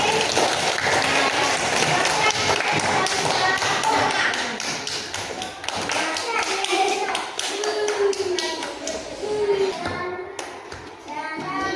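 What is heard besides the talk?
applause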